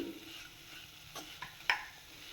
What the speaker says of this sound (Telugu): ఇలా స్లోగా కలుపుతూ ఉండాలి, లేదంటే అడుగంటుతుంది.